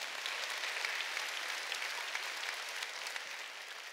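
Broad, steady applause from a church congregation during a Sunday worship service, a faint wash of many hands clapping continuously without a break, with no voices over it.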